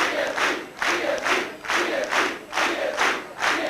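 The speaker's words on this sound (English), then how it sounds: "a lot of applause from the GSD supporters for the GSLP when they came in" GSD party supporters at a 1996 Gibraltar general election night crowd chant in loud rhythmic bursts roughly every half second, a repeated cheering call that sounds close and energetic.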